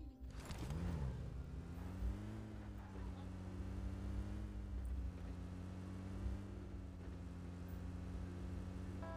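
An in-game car drives off in a video game, its engine droning steadily with a sustained tone that rises and settles, heard faintly and continuously throughout.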